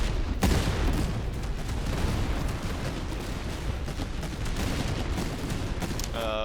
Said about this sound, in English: Pretty heavy firing here.